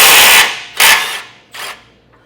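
Wrench work on the 18mm tow hook bolts and nut of a 2024 GMC Canyon: three loud, close, broadband metallic bursts of ratcheting, each fading out, with no talking.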